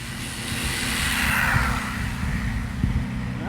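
A Haiboxing 3S Fit RC car motor run at full throttle on the bench, a steady high whine with an even electric drone underneath, close and loud, holding level throughout with no talk.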